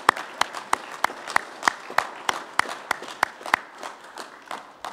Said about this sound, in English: gentlemen and kids, we need to give them a round of applause and appreciation